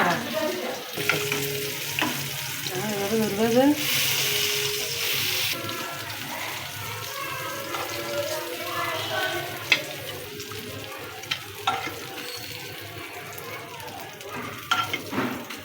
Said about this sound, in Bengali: আমার বড়া ভাজা হয়ে গেছে দেখেন কি সুন্দর